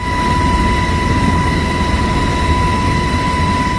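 A Philippine Air Force Black Hawk helicopter lands during a typhoon relief airlift in Kalinga, its loud, steady rotor and engine roar filling the whole stretch without pause or voices.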